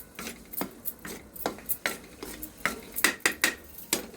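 Ragi flour stirred with ghee in a pan for a laddu, a steady run of close, rhythmic scraping strokes, about a dozen in quick succession, with no voices.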